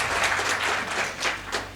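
Audience applause at a talk in Hindi, a steady wash of clapping from many hands that holds level for under two seconds, with a faint low hum underneath and no voices.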